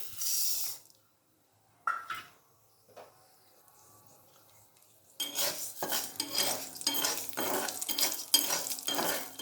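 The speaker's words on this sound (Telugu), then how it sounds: "తర్వాత ఇప్పుడు ఉలవలు వేయించుకుందామండి" Horse gram being dry-roasted and stirred in a pan: a few isolated clinks and pauses, then a dense, loud stretch of rattling, scraping stirring strokes in quick succession.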